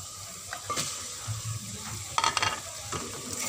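Chicken with spices sizzles and fries in a pan while a spoon stirs and scrapes it, giving a steady hiss with irregular clinks and scraping, close up and with no talking.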